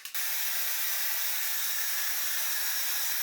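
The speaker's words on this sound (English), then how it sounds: "I'm going to take the drying attachment, high heat, full blast," A hair dryer runs on high heat at full blast to dry the roots, fitted with its drying attachment. It makes a loud, steady, broadband whoosh that starts abruptly, holds constant for about three seconds and then cuts off.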